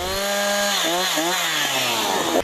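Gasoline chainsaws roar continuously at a wood carving contest held before an audience, close and loud, with engine pitch rising and dipping as the saws bite into the timber.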